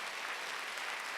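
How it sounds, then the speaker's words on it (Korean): A church congregation at a Wednesday worship service claps together in a dense, even wash of applause that holds steady throughout, with no voices over it. "빨리 박수 쳐보세요"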